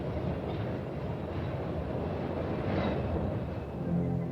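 A PATH commuter train runs through New York, giving a steady, continuous rumble of wheels and carriages throughout, with a faint squeal near the end.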